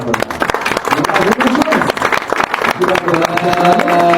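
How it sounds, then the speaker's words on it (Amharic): A warm round of applause rises from an audience at a charity campaign event, loud clapping with crowd voices and a tonal musical background underneath. "ሞቅ ያለ ጭብጨባ"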